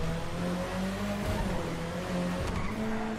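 Tires squeal sharply as a car brakes hard in a video game, a steady shrill screech laid over a loud engine drone, sustained throughout.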